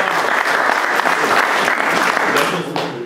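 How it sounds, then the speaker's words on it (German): Audience applause at a political rally, a dense, sustained crowd clapping that stays loud and even throughout, with no speech over it. "Herzlichen Dank, großen Applaus an Sie übrigens, meine Damen und Herren."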